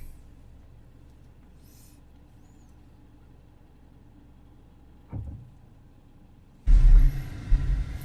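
A 2008 Hyundai Accent with a kick-down fault runs with a low, quiet engine rumble. A brief thump follows, then the engine grows noticeably louder and rougher near the end, with no talking.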